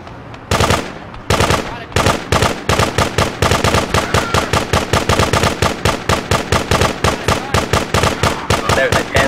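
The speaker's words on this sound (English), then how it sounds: "Frenzy fail. Machine gun." Machine gun fire in the game GTA 2, rapid loud bursts of shots in a steady driving rhythm, nearly continuous after a couple of opening pops.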